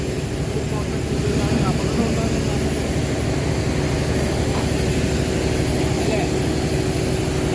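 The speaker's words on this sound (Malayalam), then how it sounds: "ഡീസൽ വെച്ച് ജനറേറ്റർ പ്രവർത്തിപ്പിച്ചാണ് ഈ അഗത്തി ദ്വീപിലേക്ക് വൈദ്യുതി ഉണ്ടാക്കുന്നത്" Diesel generators running at the power house on Agatti island make a loud, steady mechanical drone with a constant hum that never varies, and voices talk over it.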